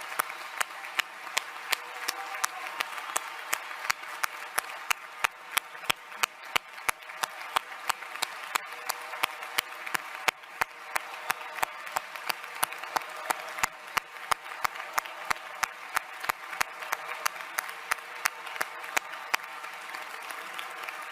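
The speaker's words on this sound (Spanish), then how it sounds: "os quiero pedir un primer aplauso cerrado para nuestra compañera secretaria general, Yone Belarra" At a political rally, an audience gives a sustained, steady round of applause, dense and rhythmic clapping that holds at an even level throughout, with no speech over it.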